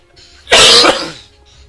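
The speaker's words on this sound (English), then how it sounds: "Sorry about that cough again" A single loud, harsh cough from a nearby man bursts out and then trails off, with no talking around it.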